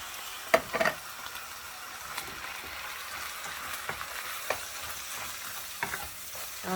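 Ground meat and tomato sauce for spaghetti bolognese being stirred in a pan, a steady sizzle under repeated scraping strokes and a couple of louder clanks near the start, with no talking.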